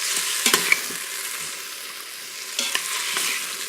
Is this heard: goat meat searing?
yes